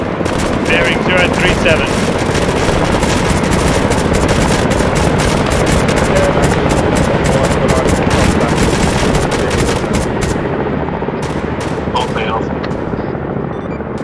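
Sustained automatic gunfire and rapid shots crackle through a firefight in a military video game, dense and continuous across the whole stretch, with radio-style voices talking over the shooting.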